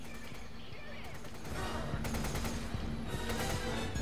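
Machine gun fire at an enemy in a Resident Evil game on PS4, continuous rapid shooting bursts under steady game sound, with a voice speaking over parts of it.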